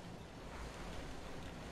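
Steady broadband wind rushing in the Destiny video game, a constant airy roar with no breaks, loud and uninterrupted across the whole stretch.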